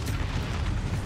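A Harrier killstreak jet blast overhead in Modern Warfare: a dense, sustained low rumbling boom that fills the whole moment, loud and alone with no talk.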